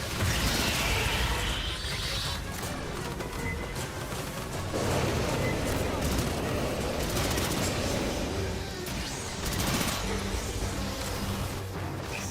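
Incendiary-round gunfire in the video game Aliens: Fireteam Elite, a dense, sustained rattle of automatic shots mixed with crashing game effects and clatter, loud and continuous throughout.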